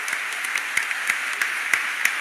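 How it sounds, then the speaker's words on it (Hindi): An audience at the Gorakhpur book festival applauds, a dense, steady burst of many hands clapping with a few sharper individual claps standing out, sustained and fairly loud with no talk over it. "और एक जोरदार ताली महाराज जी के लिए"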